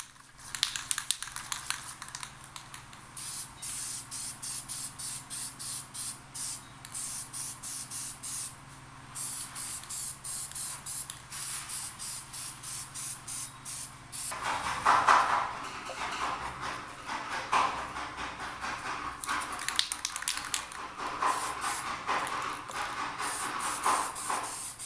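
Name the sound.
spray painting leaf springs with Rust-Oleum rust reformer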